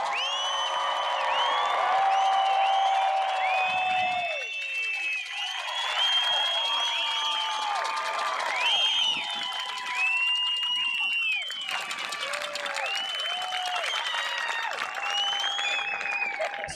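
A full-capacity stadium crowd at Sullivan Field applauds and cheers for high school graduates, sustained loud clapping with whoops and shouts layered throughout, steady and continuous.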